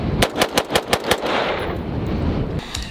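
BATTLEARMS Development Authority Elite rifle fired in rapid succession, about six sharp, loud gunshots in a quick even rhythm, followed by a lingering outdoor echo and rumble, with no talking.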